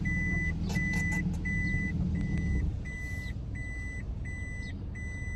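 A car's reversing alarm beeps in a steady, evenly spaced rhythm while the vehicle backs up during a driving lesson, with engine rumble underneath that drops partway through.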